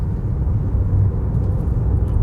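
A Kia Seltos HTX with a 1.5 petrol engine accelerating in gear, heard as a steady low engine and road rumble from inside the cabin, moderately loud and continuous with no talking.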